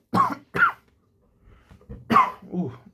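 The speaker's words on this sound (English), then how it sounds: "I don't know why I'm coughing so much." A man coughs several times in close bursts: two sharp coughs, a short pause with faint breath, then two more throaty coughs, loud and near the microphone with no talking.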